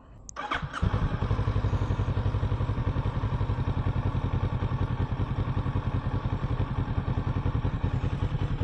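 A Kawasaki Z650RS motorcycle engine idles steadily with its stock exhaust, a low, even putter thumping throughout after a brief clatter at the start.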